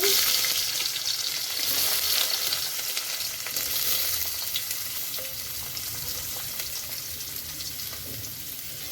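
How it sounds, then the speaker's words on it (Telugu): Loud, dense frying hiss of onions in a steel pot, constant and close throughout, with faint stirring scrapes underneath. "కొంచెం బాగా ఫ్రై చేసుకోవాలి, పచ్చి వాసన పోయే వరకు ఫ్రై చేసుకోవాలండి."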